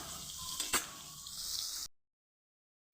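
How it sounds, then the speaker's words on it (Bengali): Eggplant frying in hot oil in a pan with other vegetables gives a constant close sizzle, broken by a sharp stirring clatter. After almost two seconds it cuts abruptly to silence. "বেগুনটা একটু ভাজা ভাজা হয়ে গেছে তার মধ্যে আমি সিম আমি আলাদা করে ভেজে তুলে নিচ্ছি না সমস্ত কিছু আমি তাতেই ভেজে নেব"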